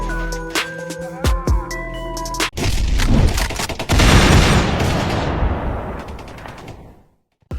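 Gunfire from a Karabiner 98k sniper rifle in the war film Fury, with several sharp shots followed by a long, loud, dense roar of battle that fades at the end.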